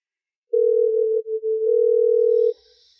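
A telephone ringback tone on an outgoing call: one steady, clean electronic tone lasting about two seconds with a brief wobble near the middle, heard alone and close, followed by near silence.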